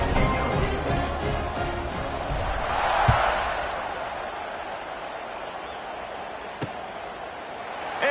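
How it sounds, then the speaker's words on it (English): Stadium crowd at a college football game between Indiana and Oregon keeps up a loud, steady roar after a score, with a commentator talking over the din. "this crowd is buzzing after that last score."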